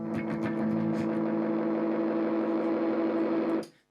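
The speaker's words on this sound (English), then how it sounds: "no one wants an effect pedal that sounds like this" A cheap Ashton guitar delay pedal gives off a dense, buzzing, distorted drone with layered repeating echoes. It stays loud and steady for several seconds, then cuts off abruptly.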